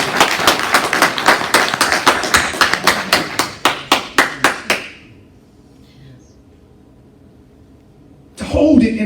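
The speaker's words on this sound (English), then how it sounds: "I'll clap for you, Pastor." A congregation in a church service claps for the pastor, a run of loud, rapid hand claps for about five seconds that stops abruptly, leaving quiet room tone before a voice starts speaking.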